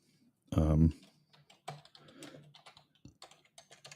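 Computer keyboard typing in short irregular bursts of clicks, fairly close and moderately loud, following a brief loud voiced sound near the start.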